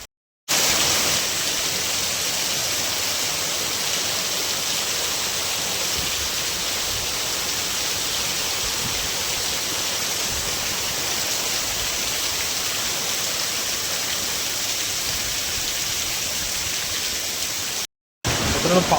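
Heavy monsoon rain falls steadily on the Konkan countryside near flooded paddy fields, a dense, even hiss that holds at constant loudness for the whole stretch after a brief silent gap at the start.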